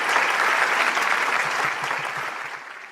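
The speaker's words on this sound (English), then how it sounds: "giving them a huge round of applause" Sustained applause from a large crowd, dense and loud, slowly tapering off toward the end.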